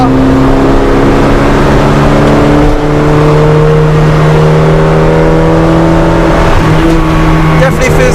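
Honda Integra Type R DC2 race car with a swapped H22 engine accelerating on the road, a loud steady engine drone heard from inside the cabin with the pitch rising, with talking over it.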